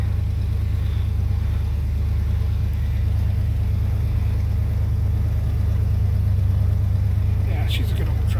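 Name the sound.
old Ford truck engine running after cold start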